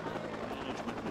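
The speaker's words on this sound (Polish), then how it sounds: "Helikopter." A helicopter in the video game Watch Dogs makes a faint, steady rotor drone, with a voice talking over it.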